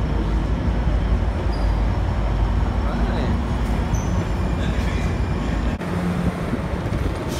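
Steady broadband rumble of an Amtrak train at a San Diego station during boarding, continuous and fairly loud throughout, with a brief dip near the end and faint voices in the background.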